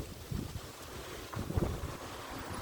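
Strong, cold wind blows in gusts across the microphone outdoors behind an apartment block in Tilburg, with low rumbling buffets rising and falling, close and fairly quiet.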